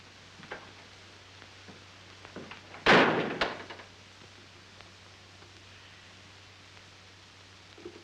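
A door slams shut in a 1935 film, one sharp loud bang about a third of the way in against a quiet background with faint rustling.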